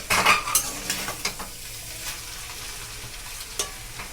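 Chicken chowmein is stirred and lifted from the bottom of a frying pan, with quiet sizzling and a few sharp clinks of a utensil against the pan at irregular intervals.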